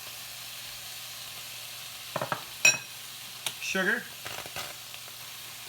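Crushed tomatoes with garlic and ginger sizzle in a hot pan, with scattered bursts of frying and stirring scrapes over a quiet background while a person speaks briefly nearby.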